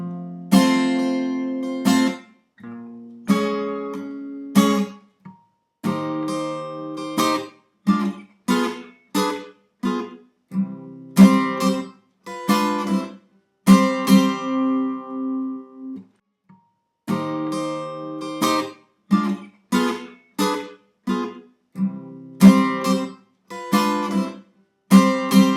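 Guitar plays the chord passage of a song, a series of plucked and strummed chords in phrases separated by short gaps, close and clear with no talking.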